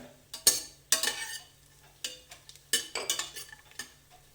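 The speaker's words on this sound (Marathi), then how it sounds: "हे ड्रायफ्रूट्स थोडेसे परतून घ्या" Almonds and other dry fruits sautéed in a pan for a Maharashtrian coconut water rice. A utensil scrapes and clinks against the pan in short bursts over a light sizzle, close and fairly loud.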